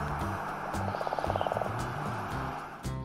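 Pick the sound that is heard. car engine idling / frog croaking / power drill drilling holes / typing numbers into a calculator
frog croaking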